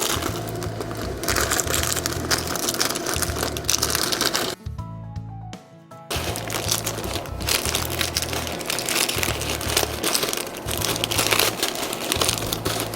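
Dried minced onion peeled off dehydrator trays, making close, brittle crinkling and crackling that runs almost continuously with one brief pause midway.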